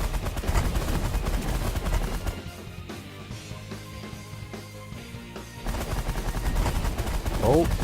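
Rapid weapon fire in the space strategy game The Last Federation, a steady stream of shots over a busy, loud soundtrack, easing off midway before picking up again.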